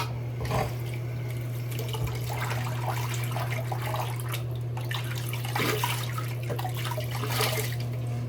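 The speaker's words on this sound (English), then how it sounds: "I'll go ahead and rinse here" Running tap water splashes steadily into a sink as a razor and face are rinsed after a wet shave, a constant close wash of water with a low hum beneath and occasional brief clatters, no voices.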